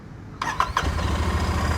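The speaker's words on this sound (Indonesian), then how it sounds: "Jadi kalau kita menyalakan motor," A Royal Enfield Continental GT 650 motorcycle engine cranks with two quick starter whirs, then catches and settles into a low, steady idle, close and fairly loud.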